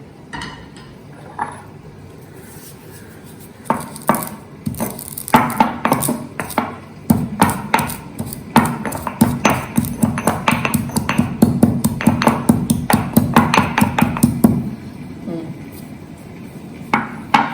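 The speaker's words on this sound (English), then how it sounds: "Now you take that and put it in your mortar pestle." Spices being crushed in a mortar and pestle for a paneer dish, with sparse taps at first and then a fast run of ringing, rhythmic pounding strikes that stops near the end. A voice can be heard faintly at times.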